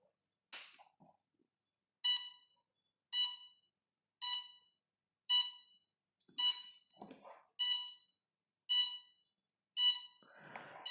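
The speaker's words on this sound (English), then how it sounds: "once I connect the battery I should be able to hear the ESC startup tone" An S550 hexacopter drone's ESCs play their startup tones after a 3S battery is connected: a series of about eight short, evenly spaced beeps, loud and clear against near silence, with a few faint handling noises between them.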